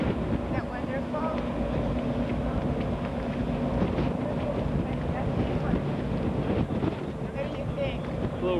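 Wind buffeting the open deck of a ferry crossing the English Channel from Calais to Dover, a steady rumbling roar against the microphone with low engine and water noise beneath, and occasional voices mixed in.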